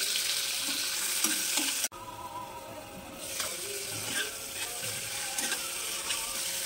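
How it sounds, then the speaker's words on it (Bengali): Chicken pieces hit hot oil already fried with ginger and garlic, producing a close sizzling hiss broken by a sharp clack partway through, then steadier frying with scattered stirring scrapes; no voices. "আদা রসুন ভেজে নিয়েছি, এখন দিয়ে দেবো চিকেনের টুকরোগুলো"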